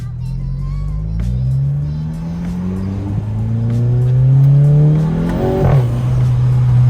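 A VW MK7 GTI fitted with an APR carbon fiber intake accelerates hard through several gear changes, its loud engine note climbing and dropping again and again from close by, with talk under the engine.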